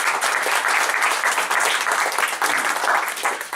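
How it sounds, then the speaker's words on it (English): Audience applause for two speakers at a Silicon Valley Latino Chat event, a steady, dense wash of many hands clapping at close range, holding evenly throughout with no voices over it. "let's give them a round of applause because these are incredible"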